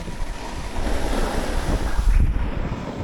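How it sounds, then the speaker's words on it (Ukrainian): Snowboard scraping over a hard, icy ski slope at Bukovel, a rough continuous hiss under wind noise, growing louder and grittier toward the end, with no talk. "Трошки шкрябається схил."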